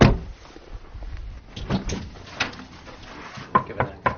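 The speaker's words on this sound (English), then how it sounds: "That was not a loud knock." Someone knocks on the door of a house: a few quiet, sharp taps near the end, preceded by soft handling and rustling sounds at close range.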